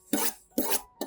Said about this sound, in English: gently sharpen your knife on the bottom of the bowl